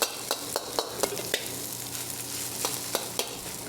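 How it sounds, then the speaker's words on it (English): Rice stir-fried in a wok over very high heat, a wok ladle breaking up the clumps: a steady close sizzle with about a dozen sharp metallic scrapes and clicks at uneven intervals, no voices. "take your wok spoon like this, or wok ladle, and break apart all the rice. You don't want clumps, and then you can really stir fry it."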